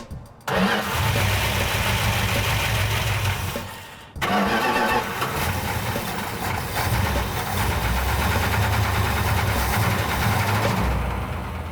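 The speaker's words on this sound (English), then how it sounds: "We're going to take the car outside and run it for a little while longer, try to put a little load on it" A new car engine damaged by sand poured into it cranks and starts, cuts out briefly, then fires again and settles into a loud, steady idle with a rough, droning mechanical tone, close by and with no talking.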